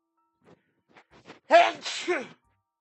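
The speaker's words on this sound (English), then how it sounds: "Horrible sneezing" A few sharp, quick inhalations build up, then a loud, close sneeze bursts out followed by a shorter second expulsion.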